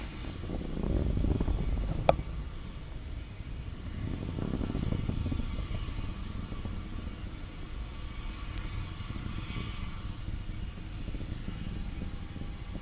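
A SpaceX rocket launching the SAOCOM 1A satellite from Vandenberg, heard far off from Orange County, produces a deep, continuous low rumble with a faint crackle as it climbs toward max Q.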